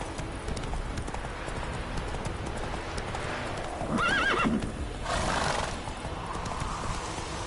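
Horse galloping in a PS4 video game, steady rhythmic hoofbeats throughout, with a whinny partway through and muted game ambience underneath.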